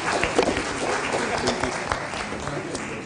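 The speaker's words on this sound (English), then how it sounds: "round of applause for our panelists." Applause from the audience at a tourism expo panel session, a scattered, fairly dense patter of hands that holds steady, with some murmuring voices mixed in.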